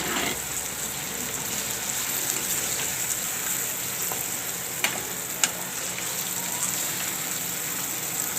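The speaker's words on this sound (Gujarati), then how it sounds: "હવે આપણે આમાં બટેટા નાખી દેવું." Potatoes frying in a pan for poha, giving a constant loud sizzle with a couple of faint clinks from stirring, close up and without talk.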